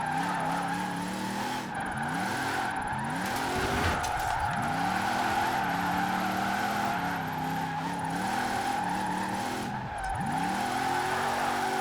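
Trophy truck in Forza Horizon 4 with a jelly drift build, engine droning steadily while repeated tire skids and squeals sweep through over about twelve seconds, loud and continuous with no talk.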